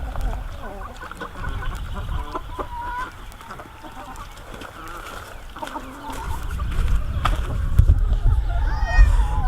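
Chickens on a farm cluck and murmur in a steady, close chorus with occasional higher calls, over a low background rumble that swells toward the end.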